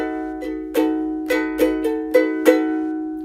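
Guitar playing a triplet strum: a few slow, separate chord strums ring out close and clear, each decaying before the next, with no talk.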